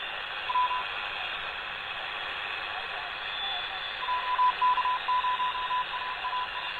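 Shortwave HF reception on a modified Quansheng TK11 handheld radio: a steady band of hiss and static with faint intermittent Morse-like beeps breaking through toward the end.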